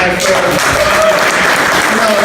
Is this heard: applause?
yes